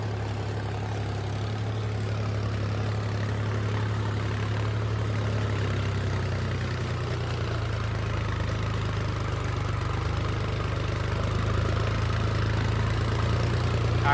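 A 4x4 tractor's diesel engine runs steadily, a constant low rumble and drone with no change in pace across the whole stretch, no voices.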